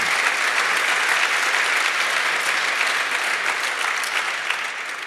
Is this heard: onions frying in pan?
no